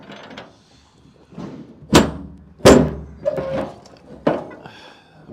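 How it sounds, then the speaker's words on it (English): Van doors opened at a conversion build in the United Kingdom: several loud clunks and latch thuds, with two strong bangs in the middle and softer rattles between. "let's open both doors."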